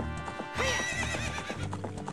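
Epona the horse in Zelda: Ocarina of Time, a single bright whinny breaking out over rhythmic clip-clop hoofbeats, the neigh rising and wavering before the galloping hooves carry on alone.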